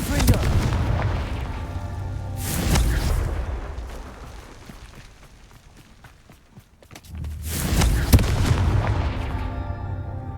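Confringo blasting spells exploding in the Hogwarts Legacy video game, two heavy booming blasts several seconds apart with a quieter stretch of rustling and steps between them, loud and close.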